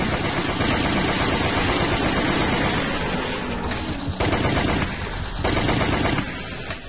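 Loud, sustained rapid gunfire in the video game Resident Evil: The Umbrella Chronicles, with dense overlapping shots and booms, briefly easing in the middle before the barrage resumes.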